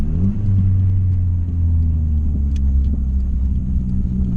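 A car's engine rumbles steadily at close range while driving slowly around, run to let the alternator recharge the battery; a continuous low drone with no talk.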